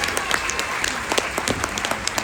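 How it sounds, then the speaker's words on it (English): Cruise ship show audience giving a round of applause, steady crisp clapping throughout at moderate level, a few hands standing out nearer. "Give them a round of applause."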